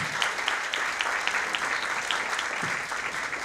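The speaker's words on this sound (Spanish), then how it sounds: "Un fuerte aplauso para la licenciada." An audience at a lecture on why not to consume milk from other species welcomes the presenter with strong applause, a loud and dense burst of many hands clapping that stays steady throughout, with a few sharper individual claps standing out.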